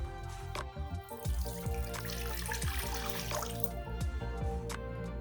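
Tap water runs into a bowl as it is rinsed out while makeup brushes are being cleaned, giving a continuous close splashing flow with drips and small clinks, and no one speaking.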